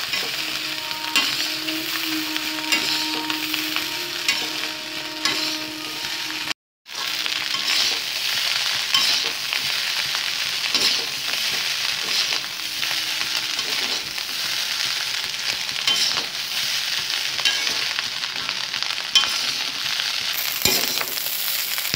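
Chicken fried rice stirred quickly in a pan over high flame: a continuous close hiss and sizzle with dense clinks and scrapes of the stirring, a brief dropout of sound partway through, no voices.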